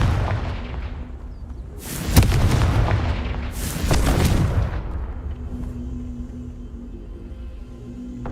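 Two heavy booming blasts from the Confringo fire spell in Hogwarts Legacy, each a loud, sharp crack followed by a rumbling roar that fades into a low hum of game ambience.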